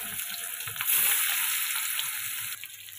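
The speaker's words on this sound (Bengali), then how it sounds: "ভেটকি মাছগুলো এবার ভেজে নেব।" Bhetki fish frying in mustard oil in a kadai, a steady close sizzle and crackle with a brief louder burst, no talk.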